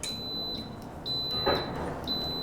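An electric pressure cooker, set to high pressure for a shrimp curry, gives four evenly spaced high electronic beeps about half a second apart, clear and close over a steady low background hum.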